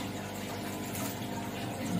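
A steady hissing spray of water mists plants in a terrarium setup, continuous and close for the full two seconds with no talking.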